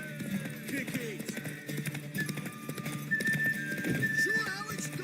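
Horse hooves clip-clop at a gallop in The Witcher 3, with a neigh along the way, layered under steady game dialogue and ambient background sound.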